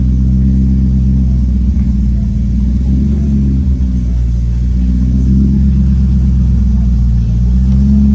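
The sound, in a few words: sports car engine revving at idle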